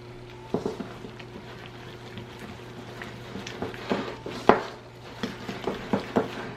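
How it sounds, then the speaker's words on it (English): Batter with milk is stirred in a bowl, a run of soft irregular clinks and scrapes of a utensil against the side, growing busier toward the end over a faint background hum. "Then we're going to add a cup of milk, or a hair bit less, and just stir this batter up."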